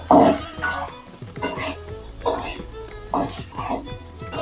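A spoon stirs cooked rice through cumin and coriander in a pan while making jeera rice, giving soft scraping and clinking strokes in an irregular rhythm with faint sizzling, close and moderately loud.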